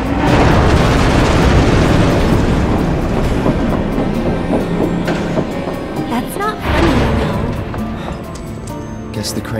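A train in Final Fantasy VII rumbles loudly and steadily with heavy mechanical clatter and a booming swell partway through, set under in-game voices and effects.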